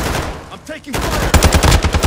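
Automatic gunfire in the video game Call of Duty Modern Warfare II: muffled shots early on, then loud, rapid bursts of machine-gun fire crowding the second half.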